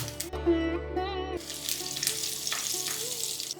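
Loud, steady sizzling of cumin and chillies frying in hot ghee, bursting in after a brief tonal hum, continuous crackle throughout.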